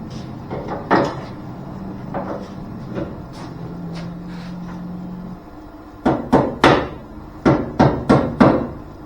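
Sharp metallic hammer-and-dolly strikes on Chevrolet Nova car bodywork, first scattered, then in quick bursts of several blows, close and loud with faint background hum.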